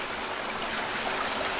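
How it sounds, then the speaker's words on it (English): Small stream flowing beside a hiking trail along the Susquehanna on the Mason-Dixon Trail, a steady close rush and trickle of water with no one talking. "there's a stream down here"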